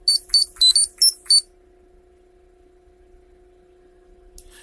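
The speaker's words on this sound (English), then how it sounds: "That was a text message." A phone text message notification sounds as a quick series of five bright electronic beeps, close and clear, then stops, leaving a low steady hum and near silence.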